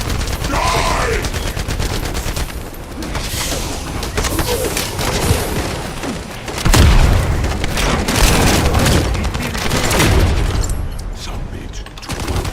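Precision bomb detonating in The First Descendant: a heavy boom among dense bursts of gunfire and blasts, loud and continuous, with voices speaking in places.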